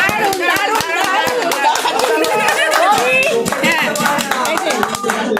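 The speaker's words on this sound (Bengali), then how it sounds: "হাততালি দাও, হাততালি, সবাই হাততালি দাও।" Family members at a joyful home gathering clap their hands in a steady, lively rhythm, with excited voices and chatter mixed in throughout.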